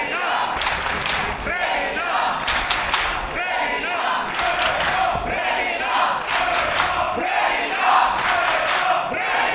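Wrestling arena crowd at a match between Regina Rosendahl and Shemeikka, loud continuous roar of cheering and chanting split between the two wrestlers, with shouts and a commentator's voice woven through.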